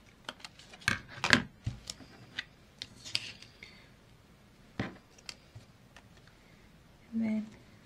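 Scissors snipping paper for a December daily collage, a few sharp crisp cuts clustered near the start with scattered handling rustles, close and moderately loud, ending in a brief murmur of voice.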